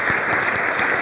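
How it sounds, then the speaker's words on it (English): Audience applause at a workplace speaker-series event, a dense, steady wash of many hands clapping at close range that holds evenly through the short stretch. "Please give them a round of applause."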